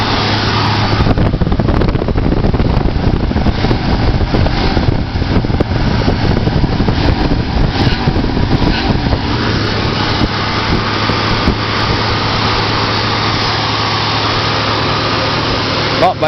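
A 1978 Mercury Cougar Brougham engine runs after a cold start, a loud steady rumble with fan whir and a faint high-pitched whine, continuous and close, easing slightly later on.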